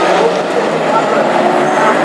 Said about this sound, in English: We go racing in the Classic Hot Rod final here at Hednesford.